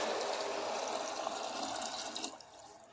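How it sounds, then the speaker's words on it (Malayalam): Boiled water poured into a pot of prawn biryani with rice, giving a short, soft splashing gush that quietly fades away after a couple of seconds. "ഇതിലേക്കിനി വെള്ളം ഒഴിക്കാം."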